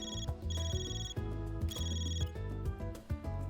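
A telephone rings in the Trails Through Daybreak video game, a repeating electronic bell in two bursts over a steady musical background, loud and close, with no talking.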